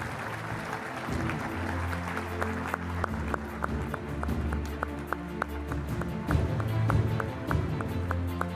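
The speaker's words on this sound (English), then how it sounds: "Let's give them a big round of applause" Rhythmic clapping from a ceremony audience honoring Colonel Day's wife Doris and son George Day Jr., steady claps over sustained low instrumental tones, moderately loud throughout.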